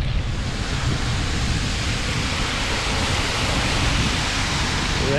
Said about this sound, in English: Red waterfall.